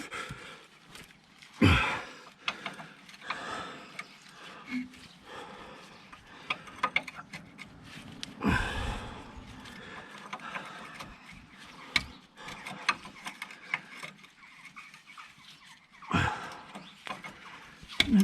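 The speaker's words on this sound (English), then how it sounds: "So first thing I need to do is undo this nut." A 19mm spanner works a rusted track rod nut on a 2007 VW Beetle, making sporadic close metallic clicks, taps and scrapes. Several louder bursts stand out between quiet gaps, along with occasional effortful breaths.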